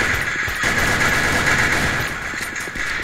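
Dense, steady gunfire in a shooting video game, with overlapping rapid shots and booms forming a loud, continuous barrage throughout.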